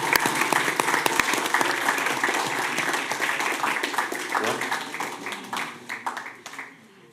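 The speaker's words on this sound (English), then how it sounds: "Can we give them a round of applause?" An audience at a city commission meeting applauds volunteers who worked on hurricane recovery, a dense round of clapping that holds steady and then thins and fades toward the end.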